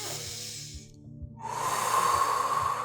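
Slow, controlled breathing held during a standing yoga pose: a soft hissing breath, a brief pause, then a longer, stronger breath that swells close to the microphone, with no talking.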